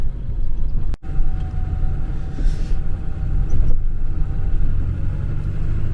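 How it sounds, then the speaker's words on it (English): A car, an Acura MDX, rumbles steadily as it reverses out of a narrow forest road, with low engine and road noise throughout and a sharp knock near the start. "we are backing out of here now because this road didn't work"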